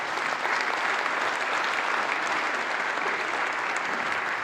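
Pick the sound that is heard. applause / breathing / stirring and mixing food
applause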